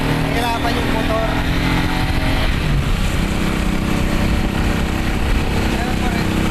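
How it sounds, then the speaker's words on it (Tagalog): A motorcycle engine drones steadily and loudly, laboring under load while climbing a difficult uphill road, while a person talks over it. "Nahirapan yung motor."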